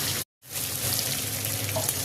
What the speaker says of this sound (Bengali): আদা রসুন পেঁয়াজটা একটু ভাজা ভাজা হয়ে গেছে এবার সবজি দিয়ে দেবো